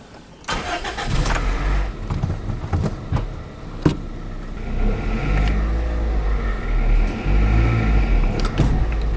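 A car engine starts and revs as the gas is pressed during a break-in oil experiment, a close loud rumble rising in repeated surges with a few sharp clicks.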